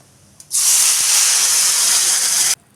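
A sudden loud hiss bursts up as water hits a hot pan of vermicelli for upma, staying steady for about two seconds before cutting off sharply.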